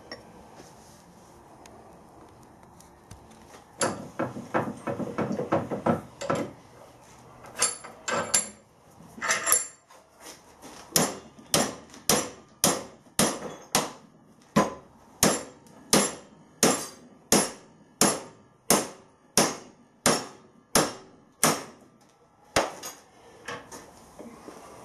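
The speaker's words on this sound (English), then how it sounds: "We'll put it in the vise and give it a bend test." Welded steel clamped in a vise being hammered for a bend test in a MIG welding review, with a quick flurry of ringing metallic blows followed by a long steady series of about twenty loud, evenly spaced strikes.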